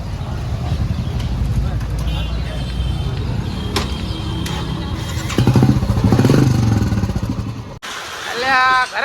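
A Bullet motorcycle engine thuds steadily nearby, rising louder partway through before an abrupt cut, with voices and surrounding road noise over it.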